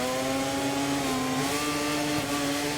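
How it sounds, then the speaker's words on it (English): A racing motorcycle engine and exhaust in the MotoGP 24 video game sustains a loud, close, buzzing drone, its pitch wavering slightly as it holds steady throughout. "The sounds in this year's games are really good, with the exhaust cracking, gear shifts, and like even the engine wobble out of corners sounding really good."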